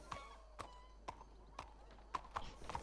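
Horse hooves clip-clop in a video game, about seven separate hoofbeats spread unevenly across a few seconds, quiet and fairly close, with no speech over them.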